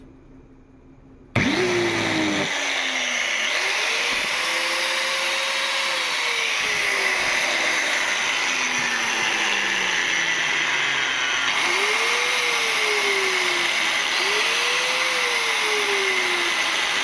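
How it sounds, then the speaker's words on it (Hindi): A DeWalt 850 watt angle grinder switches on abruptly and runs loud and close, a steady high motor whir with pitch that rises and falls in several sweeps as it is worked, no voices. "जो डिवाल्ट का ग्राइंडर है ये गाइस, ये 850 ही वाट का है। चलिए इसको भी चला करके देखते हैं।"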